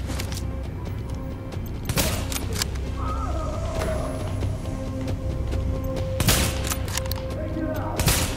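Gunfire in The Division, bursts of loud close shots and volleys in an ongoing firefight, with a voice talking over parts of it.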